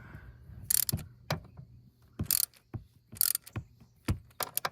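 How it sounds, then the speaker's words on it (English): A wobble socket ratchet tightens the PCV valve on a 2017 Subaru Outback, with close, irregular bursts of pawl clicking and metallic ratcheting separated by brief pauses. "Got the wobble socket. I'm just gonna tighten it down, and I am gonna hand tighten this."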